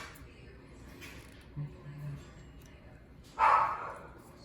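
A dog gives a short bark, then a louder sharper bark a couple of seconds later, somewhat distant over a quiet room.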